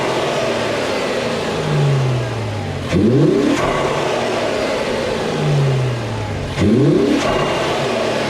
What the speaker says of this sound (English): show you what they sound like up here when you rev it in neutral